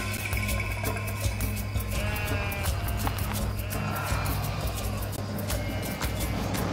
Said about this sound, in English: This is goat market.